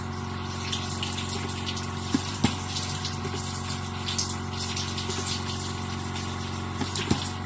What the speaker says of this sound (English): So I'm going to take my chicken out and I'm going to wash it.